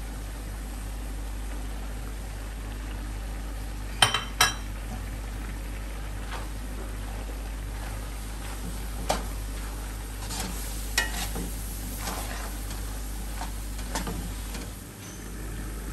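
Carrot halwa cooked with milk powder is stir-roasted in a pan under a soft, steady sizzle, with a few faint spoon scrapes and clinks scattered through the frying.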